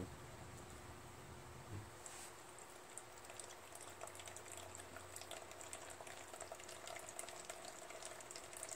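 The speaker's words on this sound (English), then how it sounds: "I'm going to take this fuel shutoff off and we'll see if there's a steady stream of fuel." Gasoline streams steadily from a disconnected fuel line at the carburetor of a Troy-Bilt 21 hp Pony Super Bronco lawn tractor, making a continuous faint liquid hiss and trickle, with no voices.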